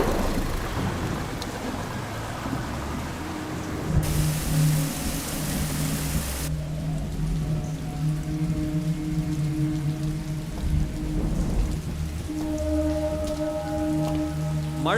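Heavy rain pours down steadily and loudly with no let-up, a dense hiss that surges even harder for a few seconds midway, while faint tonal sounds sit low beneath the downpour.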